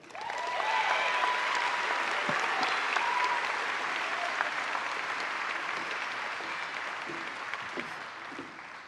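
An audience at a 2018 nurse pinning ceremony at Fitchburg State University applauds to welcome a speaker, a full, steady round of clapping that holds strong for several seconds and then slowly thins out.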